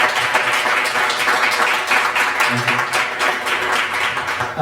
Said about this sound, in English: So a round of applause for Matt.